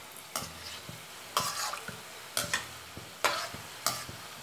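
Paneer frying in oil in a pan and being turned with a spatula, heard as a steady soft sizzle broken by about five sharp scraping stirs at regular intervals, close and clear.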